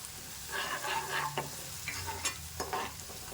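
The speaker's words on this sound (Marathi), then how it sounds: "दोन ते 3 मिनिटं छान परतून घेऊ।" Green chilies with yogurt, turmeric, red chili powder, fennel and coriander-cumin powder sautéing in a pan, a soft steady sizzle with occasional stirring clinks and scrapes, close and moderately quiet with no talking.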